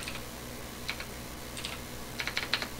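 Short bursts of keystrokes on a computer keyboard, quiet light clicks in small clusters with brief pauses, close by in a calm room.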